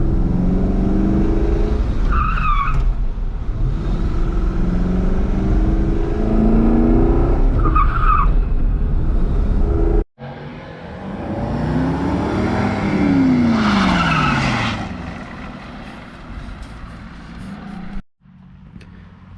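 A C5 Corvette drift car with a hydraulic handbrake and dual-caliper setup revs hard and skids on gravel in several bursts. The engine roars loudly and the tires scrabble up close, then cut off abruptly.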